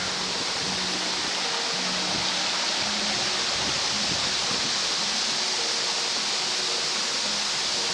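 Gap Creek Falls roars as a broad, constant rush of falling water heard up close, a steady hiss that never lets up, with faint low tones beneath.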